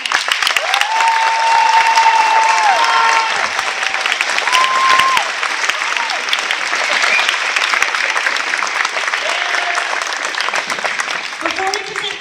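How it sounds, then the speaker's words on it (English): A crowd at a high school volleyball sectional match gives both teams a loud, sustained round of applause in a gym, with cheers and a few whoops rising over the steady clapping. "A huge round of applause for both teams"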